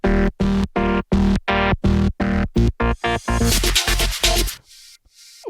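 Synth sample run through effects: a loud chopped sequence of rhythmic stabs in even pulses, speeding up into a washy, smeared texture before cutting off into a brief tail.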